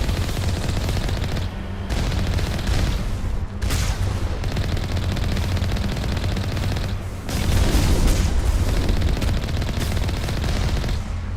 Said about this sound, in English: I'm dodging those missiles. Is that all of them?